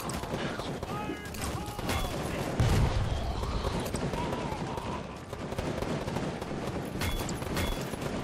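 Rapid bursts of gunfire and battle noise from the real-time strategy game GRAYZONE, dense and continuous with crackling shots and a heavier thump, while people talk over it.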